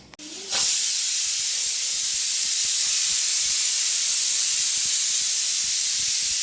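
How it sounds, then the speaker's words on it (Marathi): A pressure cooker cooking pulao lets out a sudden loud steam whistle that hisses on steadily and strongly after a short clatter at the start. "तर मस्त तीन शिट्ट्या झालेल्या आहे पुलाव तयार"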